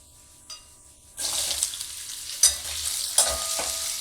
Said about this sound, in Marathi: ही फोडणी सगळी त्याला तळून घेऊया.